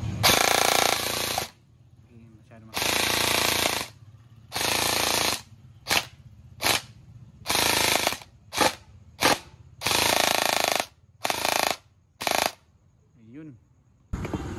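An upgraded ERP9 version 4 gun with a 7.1 barrel fires about a dozen loud, close bursts of rapid fire, some long and some short, separated by brief silences.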